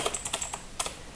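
Quick, crisp computer keyboard keystrokes typing a playlist name, about a dozen taps in an uneven burst, close and clear with no talking.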